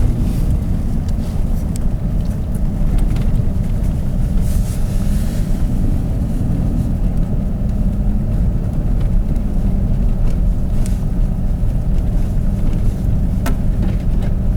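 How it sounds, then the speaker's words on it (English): A 4x4 truck locked in high range grinding up a steep snowy logging road, a loud steady low engine rumble with rattling, bumping cabin noise and occasional clunks throughout. "right now we have our 4x4 locked in high, so we have full traction"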